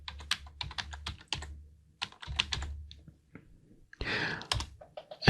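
Username and passphrase keyed in on a computer keyboard while logging into a CentOS 8 server over SSH: quick bursts of close, crisp key clicks with short pauses, then a heavier, louder keystroke near the end.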